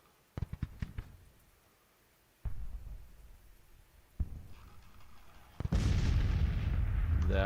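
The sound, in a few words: artillery fire in Grand Tactician video game battle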